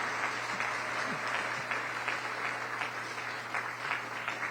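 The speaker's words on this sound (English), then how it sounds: "We'll give them a little round of applause." An audience at a school graduation ceremony for the class of 2024 claps for the graduates, an even, continuous patter of many hands heard from a distance at a modest level, with no voices over it.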